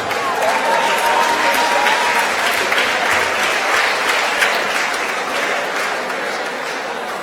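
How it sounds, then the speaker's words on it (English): A crowd applauds the remaining contestants at a live creativity competition, loud, dense clapping that holds steady for several seconds and eases slightly toward the end, with faint crowd noise mixed in. "A round of applause for all of them"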